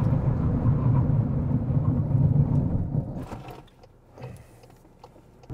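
A 2025 Cupra Leon VZ-Line 1.5 eTSI mild-hybrid brakes hard to a stop from speed; loud road and engine rumble fades quickly over about three seconds, leaving near quiet with a few faint clicks and knocks.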